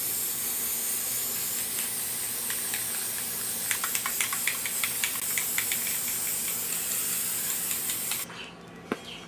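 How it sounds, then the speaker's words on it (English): White spray paint hissing steadily from an aerosol can at close range, with a continuous broadband spray broken by faint clicks and rattles, cutting off abruptly near the end. "I'm spray painting it now. Yeah, I'm gonna spray paint it with this white spray paint."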